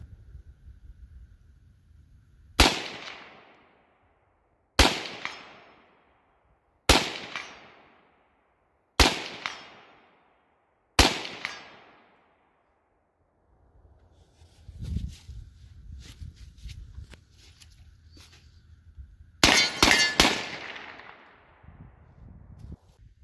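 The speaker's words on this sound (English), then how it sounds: "that was a full 30 rounds of steel cased" Anderson AM-15 rifle chambered in 7.62x39 firing steel-cased rounds at 100 yards outdoors: five loud, sharp shots spaced about two seconds apart, each with a decaying echo, then a quieter stretch of clatter before a dense burst of rapid fire.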